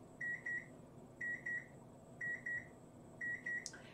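An electronic timer gives four repeated sets of double beeps, close and clear over a low steady hum, with a brief higher chirp at the end.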